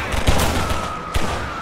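Short bursts of machine gun fire in the Roblox shooter Shell Shock, sharp rapid cracks with a couple of louder hits close by, filling a brief moment of play.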